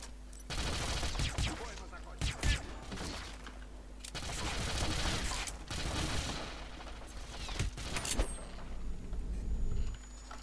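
Gunfire from the video game Hitman Absolution comes in repeated close bursts and rapid volleys, with sharp shots separated by brief lulls.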